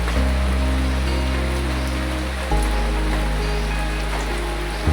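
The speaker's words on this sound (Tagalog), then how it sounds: "Grabing lakas ng ulan, guys." Heavy rain pours down steadily, a dense continuous hiss of water striking surfaces close by, loud and unbroken with no voices over it.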